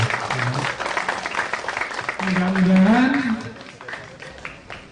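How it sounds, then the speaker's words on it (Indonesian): A crowd at the inauguration of Taman Punden Losari, a park in Maospati, Magetan, applauds RT 10 with steady, sustained clapping while a voice talks over it and a brief musical tone rises in the middle. "Tepuk tangan untuk RT 10."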